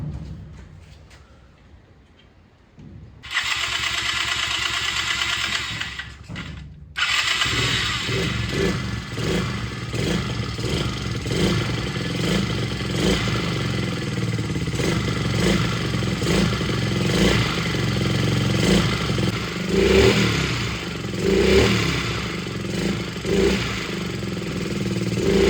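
A 2021 YCF 50A two-stroke pit bike is kicked over and its small engine catches, idling loud and close with a rough, rattly buzz and occasional blips of throttle that hold steady for some twenty seconds.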